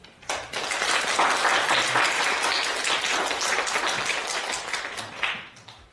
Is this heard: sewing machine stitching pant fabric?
no